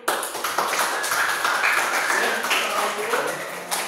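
Clapping from an audience at a school counseling dissemination session at SMKN 1 Ngablak in Magelang, a loud burst of hands that sustains for a few seconds, with a few voices mixed in.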